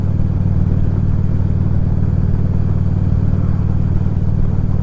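A motorcycle is ridden on a cold, cloudy morning, its engine a steady low rumble mixed with constant road and wind noise throughout.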